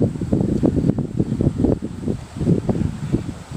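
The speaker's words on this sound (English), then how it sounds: "Sorry about the wind. It is very windy here today." Strong gusts buffet the microphone on a railroad bridge over the Wabash River, a loud continuous low rumble and flutter that swells and dips in uneven bursts throughout, with no voices over it.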